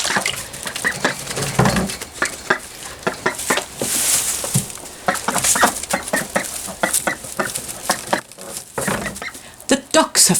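Young ducklings quacking in a bigger playpen setting, busy bursts of small calls repeating throughout at close range, overlapping and fairly loud, with a dog nearby and some speech mixed in.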